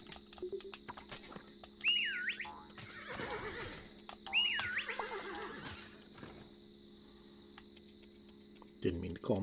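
A horse whinnies twice with rising, wavering cries in the video game Cattle Country on Xbox Series X, amid game sound effects and a steady background hum.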